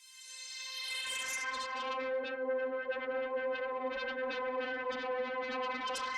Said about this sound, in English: we throw into Saturn, we add some distortion